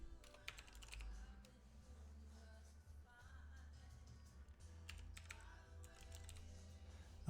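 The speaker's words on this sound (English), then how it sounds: "I'm just going to type in account storage" Rapid keystrokes on a computer keyboard while a search term is entered, a steady run of light clicks close by with a low hum underneath.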